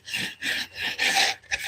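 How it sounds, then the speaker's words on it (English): Rhythmic rasping strokes as a surface is scraped to level it, four or five loud, close back-and-forth passes with brief gaps between them and no talking. "I think I'm almost done scraping this."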